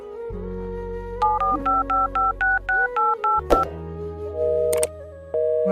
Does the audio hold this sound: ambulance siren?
no